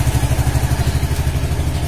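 A motorcycle fitted with a keyless alarm idles right after a keyless start, its engine close and loud with a fast, even, pulsing thump throughout.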